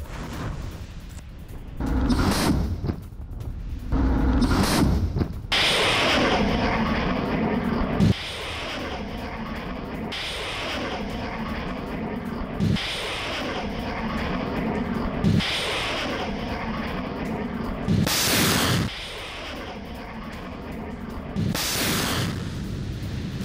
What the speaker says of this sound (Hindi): यूक्रेनी बेस पर रूसी एमएलआरएस ने दागी मिसाइलें।